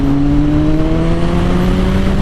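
A Kawasaki Z900 inline-four motorcycle engine hums at a steady, fairly loud idle-to-midrange pitch, holding a constant drone throughout with no talking.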